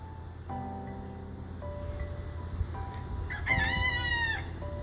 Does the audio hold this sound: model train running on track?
no